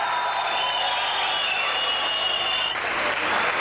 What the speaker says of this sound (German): Und jetzt wird die tobende, tosende Klapp, richtig so einen klöpfigen Applaus hören für die erste von den drei Frauen auf der Bühne.